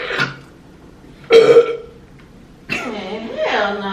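Loud, close burps ring out during a pizza mukbang eating challenge, three distinct croaky eructations spaced about a second apart with voiced tails, in a quiet room.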